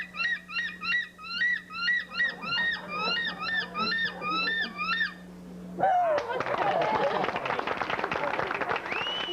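A voice imitates a seagull call with a quick series of high, rising squawks repeated rhythmically, ending in a burst of audience applause and cheering.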